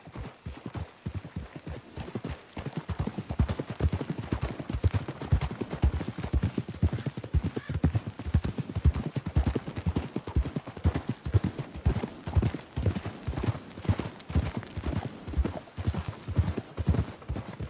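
Horse hooves clip-clop in a steady, brisk rhythm for the whole stretch in the Western video game Red Dead Redemption 2, moderately close and without talk.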